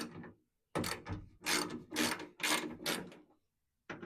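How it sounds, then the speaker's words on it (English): A hand ratchet loosens 7/16 bolts on a 1973-79 Ford Dentside truck door, heard as close, loud ratcheting strokes in about five bursts separated by short pauses. "Okay, so we're going to remove these 3 7/16 bolts."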